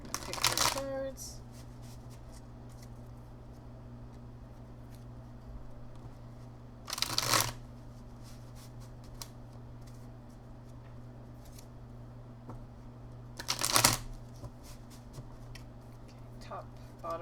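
A deck of reading cards is shuffled in three brief, close riffling bursts spaced several seconds apart, with quiet pauses between them.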